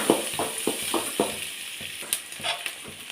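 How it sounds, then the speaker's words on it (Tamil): Chopped onions sautéing in a pan, a steady hiss of frying with repeated stirring scrapes in a regular rhythm, close and moderately loud, no voices. "இதுலேயே நம்ம அரிஞ்சு வச்சிருந்த வெங்காயத்தையும் போட்டுப்போம். நல்லா வதக்கிக்கலாம்."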